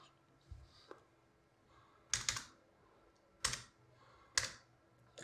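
Sparse keystrokes on a computer keyboard, three or four distinct close clicks with pauses between them, quiet and without talk.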